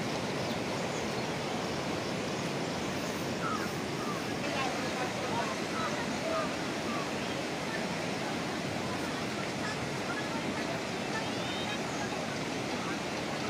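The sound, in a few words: rushing floodwater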